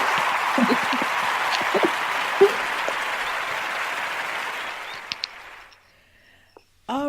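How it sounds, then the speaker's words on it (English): Audience applause at a talk on self-acceptance, a broad steady wash of clapping that fills most of the stretch, then fades out with a brief voice at the very end. "a huge round of applause"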